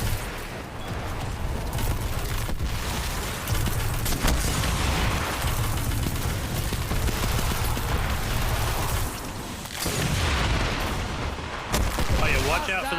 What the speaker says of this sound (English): watch out for those little scarabs. They explode.